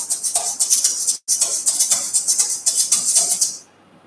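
Two egg shakers shaken together in a steady, brisk rhythm of bright, close rattling shuffles, with one brief gap before the shaking resumes and then stops.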